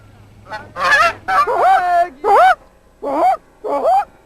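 Geese honking loudly and close, six separate nasal honks in an irregular series, with a faint low hum underneath.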